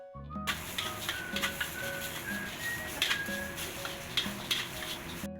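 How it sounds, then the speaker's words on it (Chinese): Rice with chicken powder and pepper seasoning is stir-fried in a wok with spicy oil, giving a steady soft sizzle broken by repeated scraping and clinking of a spatula against the pan. "把它们炒一下，炒均匀，让这个米饭吸收 辣味的油脂"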